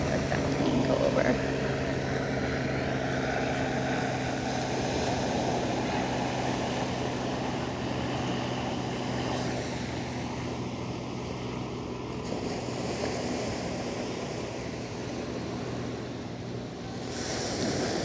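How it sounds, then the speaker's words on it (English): A plane passes overhead with a steady, broad roar that fills the whole stretch, swelling a little before it eases off. No one speaks over it. "Let that plane go over."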